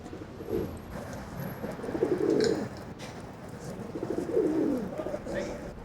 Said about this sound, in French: les pigeons.